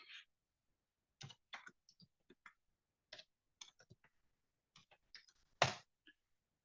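Someone types on a computer keyboard in sparse, irregular clicks and short bursts. The keystrokes are faint and close, with one louder tap near the end and no talking.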